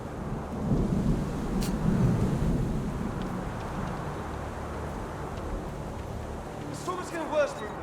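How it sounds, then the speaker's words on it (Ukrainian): A thunderstorm rages in the video game Deliver Us Mars, with heavy rolling thunder and rain roaring steadily throughout, and a few sharp higher sounds near the end. "Шторм посилюється"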